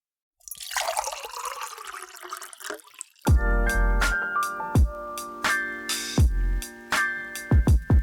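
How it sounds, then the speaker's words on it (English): Coffee pours into a cup with a soft trickling stream, followed by a run of sharp clinks and taps from cups or dishware, close and clear. "Pour the coffee."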